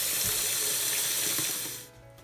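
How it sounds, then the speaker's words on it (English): Old water poured out of a tree frog's water dish during terrarium cleaning, a steady close splashing gush that runs for about two seconds and then stops abruptly. "pour out the old water"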